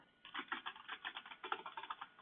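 Rapid typing on a computer keyboard, a steady run of close, crisp key clicks with no talking over it.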